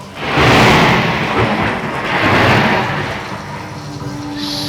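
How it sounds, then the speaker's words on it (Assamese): A loud, sustained roar of a thunderstorm with hail and heavy rain pouring down, rising and falling in waves. "বাহিৰত দবা পিতা শিল বৰষুণ"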